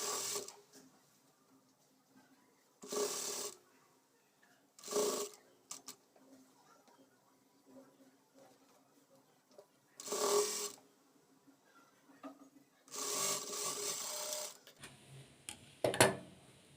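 A sewing machine stitches a top made to wear over jeans, running in several short, clattering bursts with quiet pauses between them.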